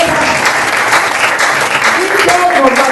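A church congregation claps loudly and continuously in praise, a dense, close wash of applause with voices mixed in.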